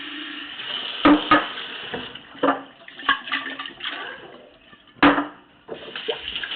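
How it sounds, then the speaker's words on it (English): Water splashing and pouring into a glass jar of quinoa in uneven bursts, with sloshing and a few sharp knocks against the glass. "How do you get all that extra quinoa out of the jar? You just throw some more water in."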